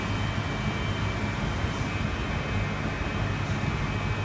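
Air hissing steadily from a punctured immersion suit under a pressure test, a continuous close broadband rush with no pauses, steady in level throughout.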